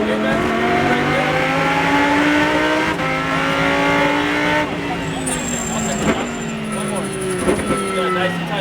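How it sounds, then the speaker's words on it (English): Lamborghini Super Trofeo race car on the Exotics Racing track in Las Vegas, loud close engine rising and falling through gear changes as it brakes and accelerates, with a spoken voice over the engine. "Good, squeeze the throttle here, and we're going to stay on the left hand side."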